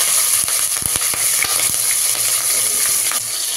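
Mustard seeds, cumin, fenugreek and green chillies frying in hot oil, a steady loud sizzle with scattered sharp pops and crackles from the seeds, close up and with no talking.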